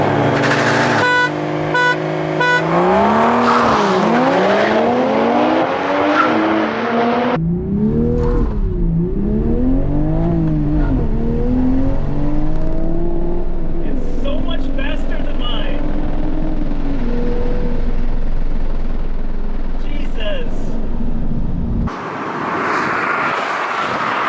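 Toyota GR Supra launching hard in a drag race, its engine climbing loudly through rising revs and gear changes, with brief dips between shifts and a close, sustained roar.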